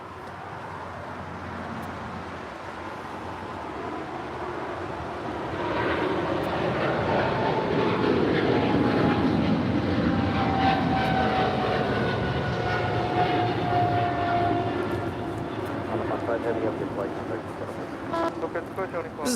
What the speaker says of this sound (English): This is All Nippon Airways Flight 5 departing to Tokyo Narita on a 777-300 ER.